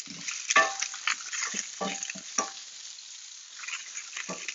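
Salmon and mushrooms frying in a pan, with soft sizzling broken up by clattering stirs and tong scrapes that come in short bursts. No one speaks.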